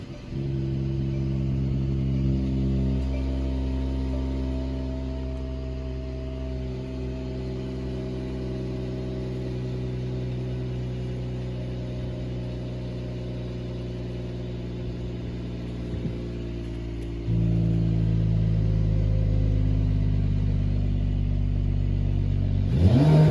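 A 2019 Mercedes-Benz E53 AMG with the AMG Performance Exhaust starts up nearby with a loud rumble, settles into a steady idle, then steps up to a louder, higher rev near the end, with no talk over it.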